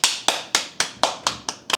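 Seven sharp claps in a steady, evenly spaced rhythm, close and fairly loud, performed by a single person with no voices over them.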